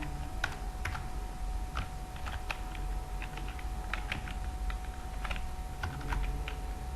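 Quick, light clicks of a computer keyboard while text is entered in Microsoft Word, irregular taps and short flurries at close range over a faint steady hum.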